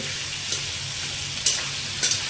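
Mutton masala curry sizzling in a pan with a steady frying hiss, broken by a few sharp scrapes of a spoon stirring the thick gravy.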